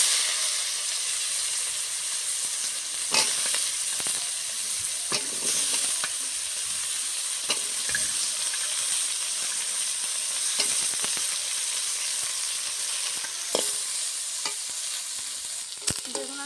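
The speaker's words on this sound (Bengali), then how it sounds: "আর একটু তেল দিয়ে বেগুন আর সিমগুলো আগে ভেজে রেখে দেবো" Brinjal and flat beans fry in hot oil in a steady, close sizzle that holds at an even level, broken now and then by sharp scrapes and taps of a stirring spoon against the pan.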